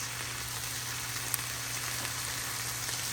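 Vegetables with Southwest spice blend sizzling in a pan for salsa verde enchiladas, a steady soft hiss of frying with a faint tap or two, quiet and continuous with no voices.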